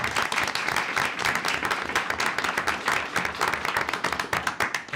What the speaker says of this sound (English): Let's give Emil a round of applause